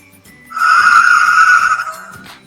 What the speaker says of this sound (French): Son moteur vrombrit et ses lumières s'allument.